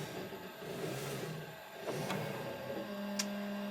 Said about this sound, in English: So it's going to go around and show me where it's going to actually stitch the design perimeter